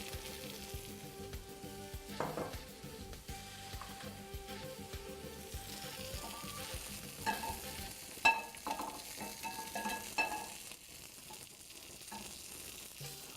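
Olive oil heats in a pan, giving a faint steady sizzle under soft clanks and scrapes of cookware, with a louder knock near the middle and no voices.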